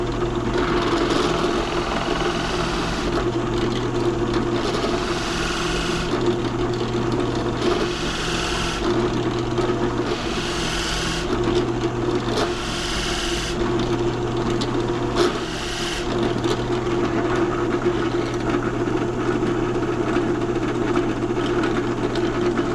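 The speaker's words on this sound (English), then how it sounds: "We're going to see if we can get started trimming these blanks back." Wooden pen blanks with brass tubes are trimmed back on a small machine, giving a continuous motor drone with repeated bursts of cutting whir as the blanks are fed in and pulled away, close and fairly loud.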